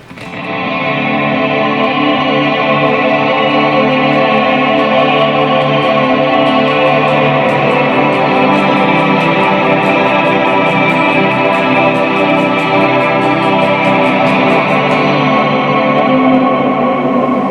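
Sustained, washy shoegaze-style electric guitar chord layered with chorus, echo and distortion from stacked pedals, a dense shimmering drone holding steady throughout.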